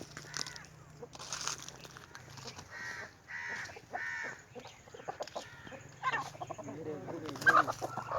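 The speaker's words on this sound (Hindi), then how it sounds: "ये देखें, ये तितर ने मुर्गी को भगा दिया है यार।" Chickens cluck and squawk in a rapid, agitated burst as a partridge chases a hen, with other bird calls mixed in, fairly close, continuing throughout.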